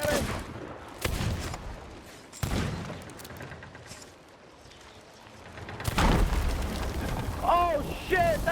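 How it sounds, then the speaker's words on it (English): Deep booming blasts erupt in a ship battle video game, three heavy explosions spaced across the stretch, the last a sustained roar, with a voice and tonal game sounds coming through between them. "that was a huge explosion"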